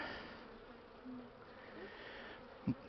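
A soft, continuous buzzing of bees hums in the background, faint and steady, with a brief low thump near the end.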